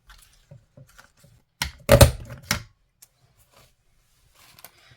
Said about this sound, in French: mes deux bordures, je vais venir couper avec ma perfo bordure